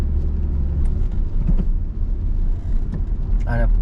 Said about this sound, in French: On accélère encore.